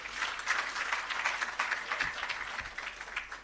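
A round of applause for a government minister at an irrigation system commissioning ceremony, individual claps audible in a loose, uneven rhythm from a modest outdoor crowd, with a couple of low thumps midway.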